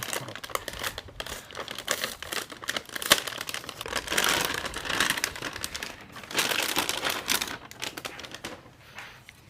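Packaging for a green Manli RTX 4070 Super graphics card being unboxed: bursts of crinkling plastic and rustling cardboard with small tearing sounds, close and fairly loud, running continuously with brief pauses.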